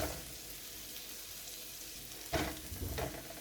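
Shrimp frying in butter crackle with a steady low sizzle while being stirred in the pan, with a louder scrape and clatter of the utensil near the end.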